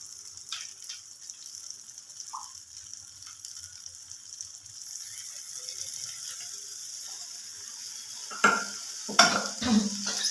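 Spice masala for a paneer curry is stirred continuously in a kadai, giving a faint, steady scraping and soft sizzle, ending in a few louder metallic clinks of the spoon against the pan.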